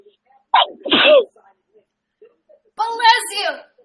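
A single person sneezes in a two-part burst, a sharp intake then a forceful release, close and clear in a quiet room, followed by another voice speaking briefly.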